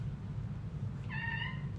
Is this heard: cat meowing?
yes